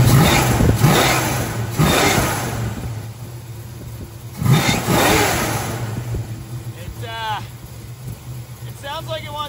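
A 1973 Dodge Charger's 440 big block V8 idles loud and close with a lumpy, uneven rumble and a few throttle blips, while people talk over it.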